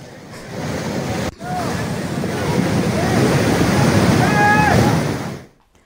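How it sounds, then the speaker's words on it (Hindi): Rain-swollen drain near Bhalaun in mountainous Uttarakhand rushing in flood after heavy rain, a steady broadband roar of torrential water, loud and continuous with a brief dip near the start and no talk. "भलौन के पास बरसाती नाला उफान पर है"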